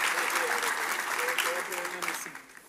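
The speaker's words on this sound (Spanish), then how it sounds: "ayúdenme a honrarles con un aplauso más fuerte" A church congregation applauds in a steady, moderately distant wash of clapping, with voices and faint tones mixed in, fading at the end.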